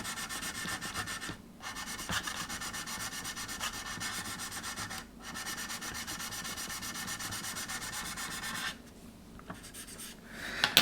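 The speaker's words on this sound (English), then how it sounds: "And then we can drop it down to a finer grit, and then ultimately we can polish it up." An Airfix 1/72 B-17G plastic model kit is sanded by hand, with a steady close rasping rub running continuously, broken by two short pauses and a longer gap near the end.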